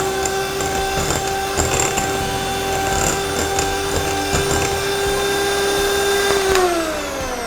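An electric hand beater whirs steadily through walnut cookie dough with a loud, even motor drone, rattling faintly in the bowl before the motor winds down and its pitch falls near the end.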